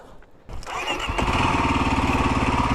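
Kawasaki KLX dirt bike single-cylinder engine bump-starts with a sudden catch, then settles into a steady, loud, close idle with an even thumping rhythm.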